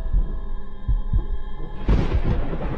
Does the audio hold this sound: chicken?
no